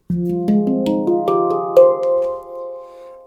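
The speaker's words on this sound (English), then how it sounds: "on a handpan, and this is a RAV pan from quite a number of years ago" An older RAV pan in F Pygmy rings out in a quick run of rising, bell-like metallic notes, each struck cleanly and left to resonate and fade together.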